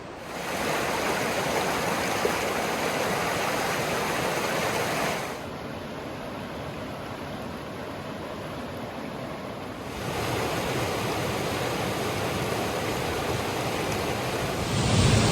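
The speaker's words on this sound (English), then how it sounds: "there's a cool little rapid here" Steady rushing water from a small rapid on Tom's Creek in the Delaware Water Gap, continuous broadband roar close by, with a quieter stretch in the middle before it swells again.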